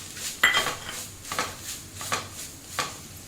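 Metal spatula scraping and tapping against a pan as grated coconut roasts in ghee, a few distinct clinks and scrapes every half second or so, quiet and close with no talk.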